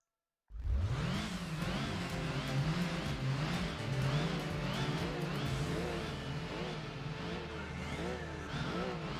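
A Toyota Yaris race car engine drones and rises in Gran Turismo 4, a steady close whine with repeated revving swells and shifts, starting abruptly and running continuously without speech.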